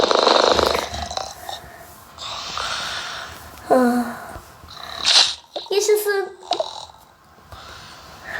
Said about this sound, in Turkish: Çok tatlı bir kedicik.